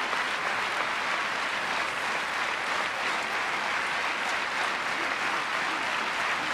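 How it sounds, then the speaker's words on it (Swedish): A large crowd at a high jump competition claps continuously at an even, loud level for the whole stretch, as dense handclapping with no gaps or talk. "Den där handklappningen vet ni vad den betyder."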